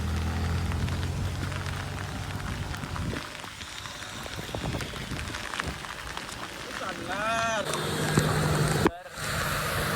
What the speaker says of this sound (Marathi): पाऊस